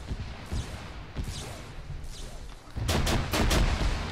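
Grenade launcher fire in Arma 3: dull thumps and booms at middle distance, followed by a louder cluster of heavy blasts near the end.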